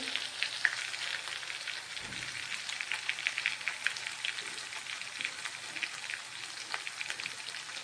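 Garlic sizzles steadily in hot oil in a pan while an eggplant curry is cooked, a continuous crackling fry with small pops throughout and no voices.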